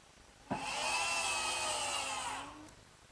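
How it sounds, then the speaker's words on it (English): A power driver whirs steadily for about two seconds, winding up sharply and then slowing down as a screw is driven into a pre-drilled hole in hard oak. "just fasten it with the screws"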